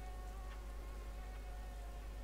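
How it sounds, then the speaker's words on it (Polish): A large bee in the video game Limbo buzzes steadily nearby, a low droning hum that holds without pause, faintly mixed under quiet background tones. "Wielka pszczoła."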